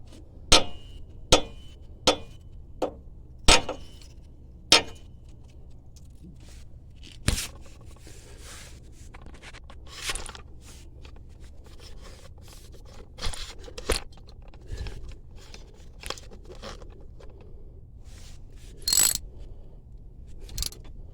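A 10mm brake caliper bolt being snugged with a hand tool on the front brakes of a 2004 GMC/Chevy 1500 truck, making a series of sharp metallic clicks and ticks, irregular and fairly close, with quieter scraping between them.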